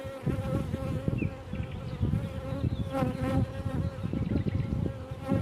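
Loud, close buzzing of many honeybees at a hive, a thick humming drone with individual bees zipping past the ear.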